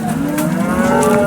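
A large cow at a cattle market in Sangola lets out a single long, loud moo close by, a sustained low tonal call lasting over a second.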